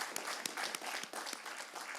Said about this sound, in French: vous pouvez les applaudir tous collectivement